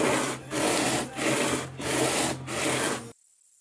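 A carbon fibre swing arm for an electric scooter is sanded or filed by hand in steady back-and-forth strokes, about five rhythmic rasping passes close up, with a low hum underneath before it cuts off.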